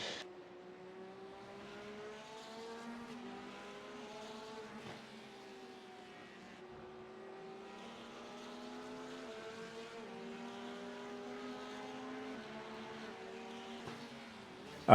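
Race cars lapping Laguna Seca in a sim racing game, several engines whining as they rev up and drop through gear changes, faint and steady throughout.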